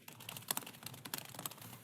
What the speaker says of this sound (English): I am just typing it into the Q&A again, or email.